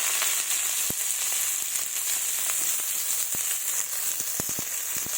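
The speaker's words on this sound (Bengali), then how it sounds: "এবার পেঁয়াজ কুচি দিয়ে দেব।" Chopped onions frying in mustard oil in a wok make a steady close sizzle, broken by a few sharp crackles and pops, with no voices.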